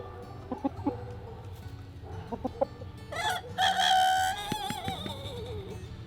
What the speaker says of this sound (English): chickens are still doing their thing out here